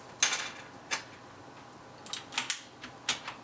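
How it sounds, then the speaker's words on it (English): Keycaps being pulled off a Ducky DK9008 mechanical keyboard with Cherry MX switches, giving a handful of sharp plastic clicks and snaps spaced irregularly, close and with no talk. "And let me pull off some keys on this keyboard."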